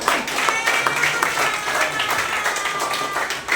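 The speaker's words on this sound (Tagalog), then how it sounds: "Sa may palakpak sa Panginoon." Church congregation clapping during a Filipino worship service, a dense burst of applause mixed with crowd voices and a few shouts, steady and fairly close.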